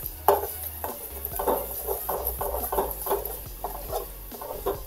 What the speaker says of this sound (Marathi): आता ही सगळं मिक्स करून घ्यायले.